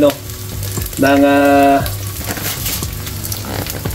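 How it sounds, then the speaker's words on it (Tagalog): Sauce for fish frying in a home kitchen pan, a steady close sizzle running throughout with a short tonal hum partway through and light stirring taps. "Nagluluto ako ng sauce para dun sa fish na niluto ko kagabi"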